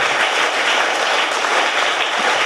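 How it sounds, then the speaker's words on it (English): A crowd of schoolchildren and guests claps loudly for their teachers at a school cultural programme, producing a continuous, thick wash of applause that holds steady throughout. "Shall we give a big round of applause for all our teachers here?"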